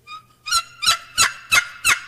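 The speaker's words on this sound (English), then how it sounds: "at those longer distances, it will sound like a turkey yelping" A short wooden box turkey call gives a series of five high-pitched turkey yelps at an even, quick rhythm, crisp and close with no talking.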